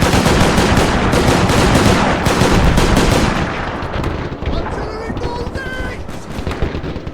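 Heavy artillery shells and rapid gunfire roar in a dense, continuous barrage during a World War-era battle in the Mount & Blade Warband mod The Parabellum, loud at first and then thinning into scattered shots and lighter battle noise.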